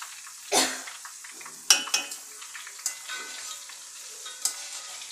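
Green chillies fry in boiling oil for a Kerala-style gooseberry pickle, a quiet sizzle broken by several sharp metallic utensil clinks and scrapes against the pan.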